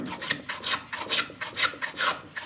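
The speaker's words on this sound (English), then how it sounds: "So I start right on the nose and keep planing until I'm near that surface." A hand plane shaves pine wood in quick, regular strokes, about eleven rasping swishes in a steady rhythm, close and moderately loud with no voices.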